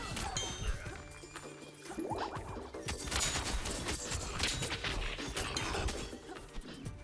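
Sniper gunfire in the LORT action roguelite game, dense overlapping shots, impacts and crashes in rapid chaotic bursts, with brief sounds of talk mixed in.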